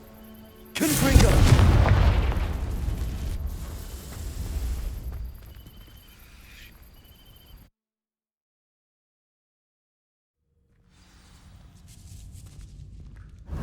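In Hogwarts Legacy, a Confringo fire spell hits dry vines and bursts into a deep booming whoosh, then a fading roar of flames. Silence follows, then a low ambient rumble returns.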